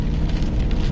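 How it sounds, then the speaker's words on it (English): Steady rain just beginning to fall on a lawn-care job site, a dense, even patter that fills the short stretch at close range with no voices. "It's definitely got rain now. Look at the rain coming."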